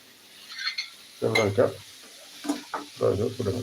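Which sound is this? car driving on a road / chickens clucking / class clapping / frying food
frying food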